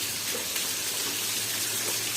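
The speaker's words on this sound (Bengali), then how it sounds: "এখন তো বৃষ্টি নেই, ঝর্ণার পানি।" Water from a mountain waterfall at Chandradinga near the India border rushes in a constant, close, hissing gush with no pauses and no talk.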